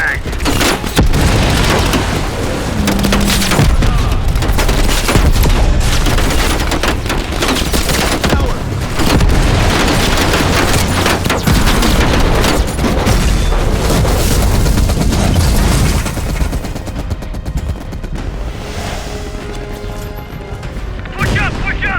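Loud gunfire and explosions tear through a Call of Duty: Black Ops Cold War combat scene, with dense rapid shots, heavy booms and bursts packed close together, while shouted voices break through the din of battle.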